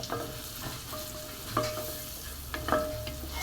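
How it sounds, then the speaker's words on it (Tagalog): Chopped red onion sizzles steadily in a hot pan while being stirred, with a continuous close frying hiss and a few scraping clatters of the utensil. "So, pwede natin ilagay ang ating chopped red onion. So, halo-halo lang natin siya."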